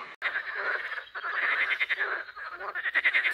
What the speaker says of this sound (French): il y a beaucoup de personnes qui me demandent si c'est vrai ces grenouilles, si c'est vraiment des grenouilles